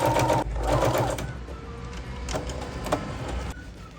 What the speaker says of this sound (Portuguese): eu vou passar uma costura reta